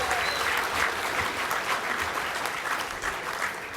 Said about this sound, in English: Another big round of applause for Vodafone Fiji Limited